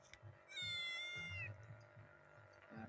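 A stray kitten in the middle of a street gives one drawn-out meow, faint against low traffic rumble in the background.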